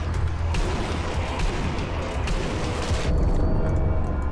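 Rapid bursts of PPSh submachine gun fire in Sniper Elite: Nazi Zombie Army, dense and loud, a sustained rattling barrage with booming impacts blending together.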